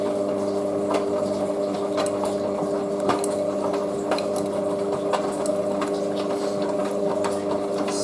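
A Hotpoint Casatta WM63 washing machine on a 60°C colourfast cotton programme running an intermediate spin at 750 RPM, a steady loud motor hum with a strong tonal drone and faint irregular knocks throughout.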